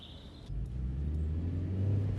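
A car being driven on a road, a low steady engine rumble close by that thickens slightly partway through, with no talk.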